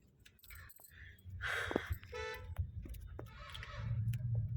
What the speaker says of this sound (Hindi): तो ये है ट्रैफिक का सिचुएशन यहाँ का